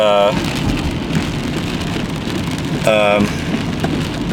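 Heavy rain pours steadily during an intense thunderstorm in Sheridan, Wyoming, with loud rumbling thunder throughout and two brief sharp tonal sounds breaking through near the start and again around three seconds.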